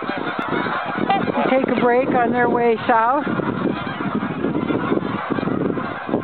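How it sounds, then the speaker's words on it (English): A flock of geese honks loudly and repeatedly as it flies in to a winter bird-feeding spot, the calls overlapping in a noisy cluster while someone talks over them. "And then there were the geese that are flying in"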